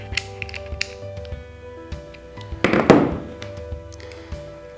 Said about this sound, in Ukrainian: Для зручності скористаємося головкою 14. Затягуємо гвинт.